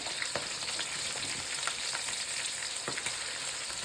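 Onions frying in oil in a pan for rice upma, a constant loud sizzle and crackle with scattered utensil scrapes and taps throughout.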